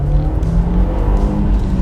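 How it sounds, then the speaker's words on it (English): Audi TT engine rumbling with the roof down, a steady low drone close to the listener, continuous throughout. "a bit more of a rumble from the engine with the roof down"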